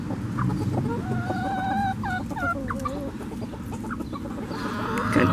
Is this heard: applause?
no